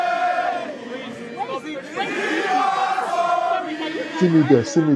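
A crowd of supporters gathered outside a London think tank, a dense mix of many overlapping voices, calls and cheering close by, loud and continuous throughout with a few sharper shouts near the end.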